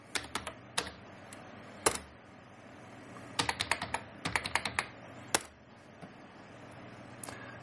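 Keys clatter on a computer keyboard while logging in as root on a Linux console, in short irregular bursts of crisp clicks separated by pauses, close and clear with no talking.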